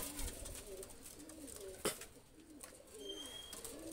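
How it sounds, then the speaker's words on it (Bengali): Oman blood pigeons cooing in repeated low, rolling phrases, several overlapping coos at close range with a sharp knock near the middle and a faint high tone late on. "প্রত্যেকটাই ওমান ব্লাডের কবুতর, 188 কবুতর যা দেখাচ্ছি। তো দুইটা কবুতর ছেড়ে দেখাচ্ছি।"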